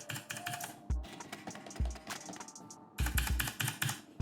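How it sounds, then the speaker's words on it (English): Keys on a Redgear Shadow Blade mechanical keyboard are pressed in close, clicky bursts, rapid clusters of sharp taps separated by brief pauses, with a few heavier bottoming-out thuds. "You can hear the difference if I press this button, and listen to mechanical switch sound guys."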